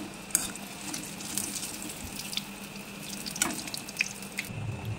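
Spring rolls (somucha) fry in hot oil, giving a soft continuous bubbling hiss with a few sharper crackles and pops, close by and fairly quiet, with no voices.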